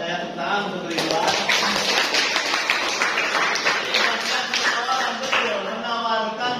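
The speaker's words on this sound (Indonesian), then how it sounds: "tepuk tangan untuk Ridwan" Students in a high school classroom clap for a classmate, a brief burst of scattered hand claps over soft chatter and voices, fairly close and moderately loud.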